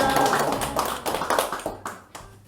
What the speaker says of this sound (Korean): 모두 박수로 환영해 주세요